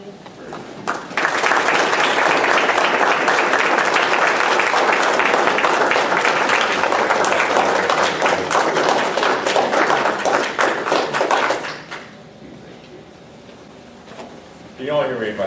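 An audience stands and applauds as Senator Lankford enters a legislative update meeting. Loud, dense clapping runs for about ten seconds, then cuts off to a quiet room with a brief sound near the end.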